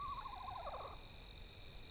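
A single owl gives a quick wavering run of hoots over a steady high insect-like drone, then falls quiet while the drone carries on.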